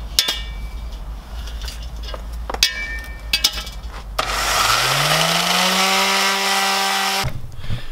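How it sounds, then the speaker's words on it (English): Power sander spinning up and grinding old paint off vintage VW roof rack rails, a sustained whining drone for a few seconds, preceded by scattered knocks and scraping handling sounds. "these rails, as you can tell, have seen better days, so they're going to get sanded down"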